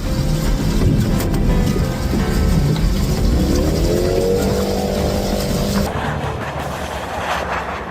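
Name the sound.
Audi e-tron Sportback driving in snow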